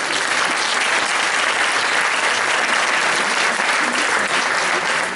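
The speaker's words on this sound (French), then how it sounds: "Bien, ben, je crois qu'on peut l'applaudir." Loud, continuous applause from an audience at a festive ceremony honoring a queen, dense sustained clapping filling the whole stretch without pause.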